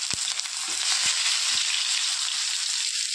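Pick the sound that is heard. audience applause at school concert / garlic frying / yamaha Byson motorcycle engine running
garlic frying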